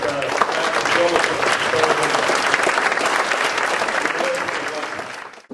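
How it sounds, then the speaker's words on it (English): An audience applauds a professor, a dense and loud burst of clapping that holds steady, then thins and fades out near the end. "I would like to give applause to Professor Ülo Niinimets"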